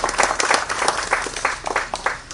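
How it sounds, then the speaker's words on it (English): Applause from a crowd at a launch event in San Fernando, Trinidad, a steady patter of many hands clapping at moderate volume, with no voices rising above it. "I ask for a round of applause for her"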